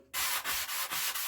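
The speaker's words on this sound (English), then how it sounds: "we'll get a little sanding block, go over this whole thing" Sanding block rubbed back and forth over a Bonser auto truck fuel tank part, a steady close scratchy abrasive rasp in several strokes with brief dips between them.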